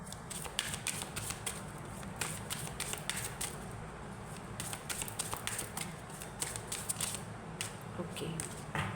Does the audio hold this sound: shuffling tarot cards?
yes